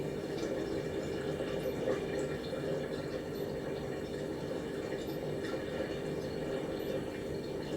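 Siemens IQ300 washer dryer filling with water for a rinse during a wool cycle, a steady continuous rush of inflowing water with a low mechanical hum, constant and unbroken throughout.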